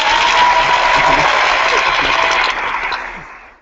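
Short burst of dense studio applause, loud and close, holding steady and then fading out over the last second.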